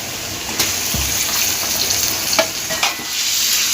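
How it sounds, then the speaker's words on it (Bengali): Onion and marinated meat frying on a high flame for green chicken, a steady loud sizzle with a few spoon scrapes and clinks breaking through, close up and without talk. "পেঁয়াজটা দুই থেকে তিন মিনিট আমি হাই ফ্লেমে ভেজে নেব"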